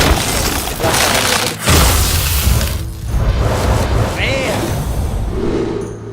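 Hearthstone card pack opening effects: loud booming bursts, shattering crashes and sweeping whooshes follow one another over several seconds, with a bright rising chime near the end.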